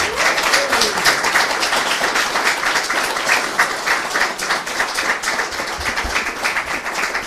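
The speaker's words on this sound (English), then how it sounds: "Can we have a round of applause for our panelists, please?" A crowd claps continuously for a panel discussion, a dense steady patter of applause that holds at an even level throughout.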